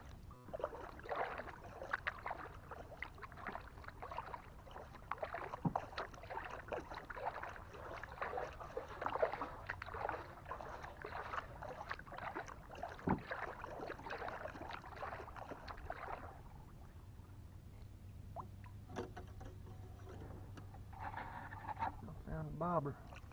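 A kayak paddles downriver on a mushroom-foraging trip: repeated soft watery paddle strokes and gentle splashes over a continuous river wash, then quieter water with small drips and knocks near the end.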